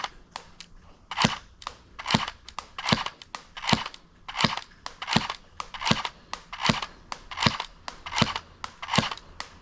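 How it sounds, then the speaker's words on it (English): An electric airsoft pistol firing around 220 FPS at a medium-range target fires sharp, snappy shots at a steady pace of roughly one per second, about a dozen in a row, loud and close with no talking. "definitely an interesting sensation shooting an electric pistol"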